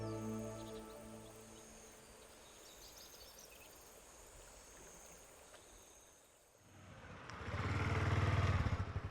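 A motorcycle rides over Pibaeryeong pass toward the small rural village of Hoein; a low engine drone grows steadily louder as it approaches and passes close by near the end, with faint insect chirping underneath early on.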